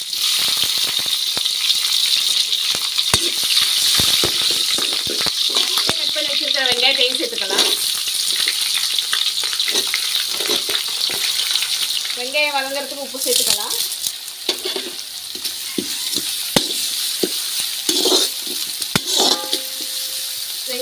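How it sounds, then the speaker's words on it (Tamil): Onions sautéing in hot oil with whole spices, salt and green chillies for a chicken fry, a steady close sizzle throughout with occasional stirring clatter and brief voices over it. "வெங்காயம் கொஞ்சம் நேரம் நல்லா வதங்கட்டும்"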